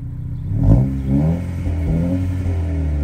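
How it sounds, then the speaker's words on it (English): A 2022 Honda Civic Si engine with stock exhaust revs up quickly and settles into a fairly quiet, steady idle; the rumble is close and low, with no talking. "I'll give it a little rev."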